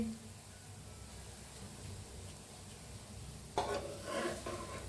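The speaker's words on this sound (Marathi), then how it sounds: "फुल गॅस भाजायचा छान असं भाजून घेऊया आपण" Puran poli roasts on a griddle over a full gas flame, a faint, steady low hiss of cooking, with a brief scrape near the end as the flatbread is moved, no talk.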